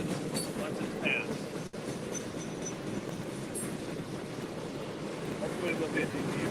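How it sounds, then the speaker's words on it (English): A train rolls past trackside in Ohio, a broad, steady rumble and roar of passing rail cars heard close up, with faint voices underneath. "why don't we just let everybody enjoy the train going by"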